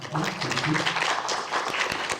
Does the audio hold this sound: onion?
no